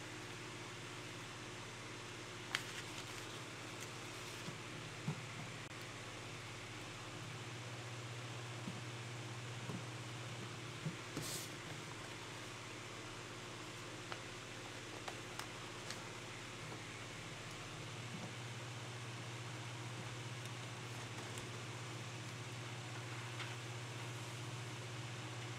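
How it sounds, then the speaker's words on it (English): A constant low hum and airy whoosh of an electric fan running steadily, with a few faint ticks and clicks scattered throughout. "Got to have my fan."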